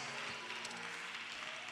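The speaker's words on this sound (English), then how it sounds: "come on, clap your hands" A Baptist church congregation claps along during Sunday worship, a steady wash of many hands clapping together at moderate volume, with no clear individual claps standing out.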